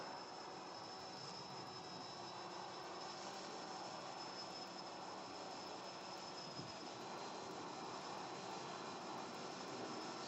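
Walkera V303 Seeker quadcopter drone flying on a cold mountain at sunset, a steady droning motor whine that holds evenly throughout, with faint wind and no talk.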